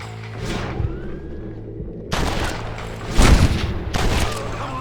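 Gunfire in Red Dead Redemption, with bursts of shots and booming reports in uneven clusters over a low rumbling game soundtrack, loud and close.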